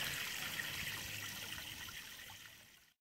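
Water drains from a garden pond line in a soft, steady trickle and hiss that slowly fades, then cuts off at the end.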